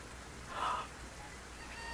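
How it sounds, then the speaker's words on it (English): Steady rain pouring down in Honkai Impact 3, a constant faint hiss with a brief brighter chirp-like sound rising near the start, no voices over it. "The rain kept pouring down."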